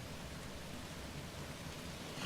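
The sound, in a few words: rain storm in Horizon Forbidden West video game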